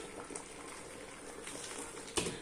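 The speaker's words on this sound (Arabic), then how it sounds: "هنزل عليها بميه سخنه" Hot water poured over boiled duck pieces in a pot, a faint, low bubbling and liquid wash with a brief splash near the end.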